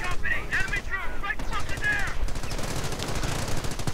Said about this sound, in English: Troops here getting sniped, shot at.